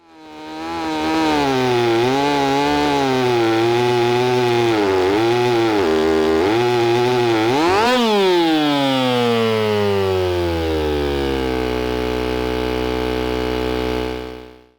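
A synthetic chainsaw-like engine drone rising and falling under load, then sweeping up sharply and slowly winding down, loud and continuous.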